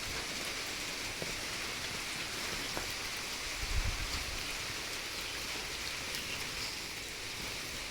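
Steady rain falling outdoors, a constant soft hiss of drops with a faint low thump partway through.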